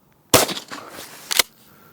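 A Hatsan Escort Field Hunter pump-action shotgun fires a single loud shot at a target roughly 40 yards away in an open field. A sharp blast is followed by a short decaying tail and then a second crack-like transient, with no voices.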